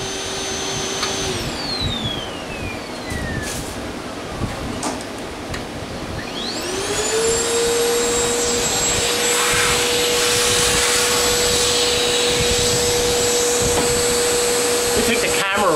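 Milwaukee 0885-20 cordless backpack vacuum running on a 12-volt battery and switching between two speeds: a whine winding down, a brief lull, then a rising spin-up into a steady loud high-pitched motor drone, close to the microphone.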